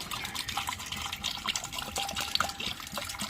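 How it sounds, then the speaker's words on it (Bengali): Whey left over from making chhana (fresh cheese) is poured from a bottle, giving a steady splashing, gushing stream of liquid that runs close and continuous for a few seconds with no talking. "এই ছানার জলটা এখানে ঢেলে দিলাম।"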